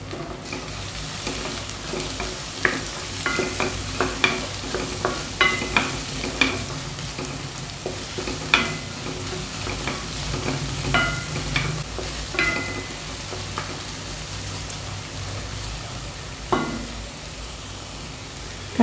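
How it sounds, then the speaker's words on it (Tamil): Carrots fry in a hot pan, a steady close sizzle under repeated scrapes and clinks of a spoon stirring, with no voices. "கேரட் கொஞ்சம் நேரம் வதங்கட்டும்."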